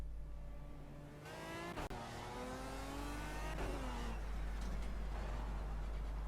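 Race car engine heard onboard during an outlap in Project Cars, revving and shifting through gears with rising and falling pitch sweeps over a steady low drone, close and continuous.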